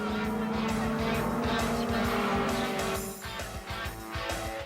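F Production race cars at speed at Mid-Ohio during the SCCA Runoffs national championship, engines droning loudly with shifting pitch as traffic comes through, a continuous close roar.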